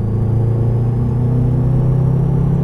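A Subaru car accelerating steadily in a continuous low engine rumble, loud and close from inside the vehicle, the drone rising slightly in pitch without a clear gear change.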